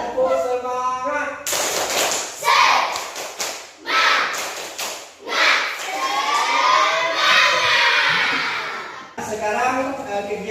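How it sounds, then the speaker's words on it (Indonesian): A class of schoolchildren performs a rhythmic spirit clap, bursts of clapping and chanting voices in quick patterned groups, loud and close, with a teacher's voice briefly at the start. "Ya, tepuk semangat."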